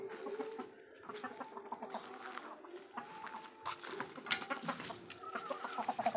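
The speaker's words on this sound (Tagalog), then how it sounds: "yung ating mga hen na kelso." Kelso hens cluck softly and repeatedly at close range, a scattered chorus of short throaty calls over low farmyard background noise.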